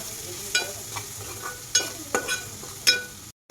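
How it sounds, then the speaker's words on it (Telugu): Onions seasoned with turmeric fry in a pan, a steady soft sizzle broken by several sharp scraping stirs of a spoon against the metal, close by and with no voices. "సరిపడంత పసుపు సరిపడినంత వేసుకొని బాగా తిప్పాలి ఉల్లిపాయలు బాగా ఎర్రగా వేగేంత వరకు ఉంచాలి"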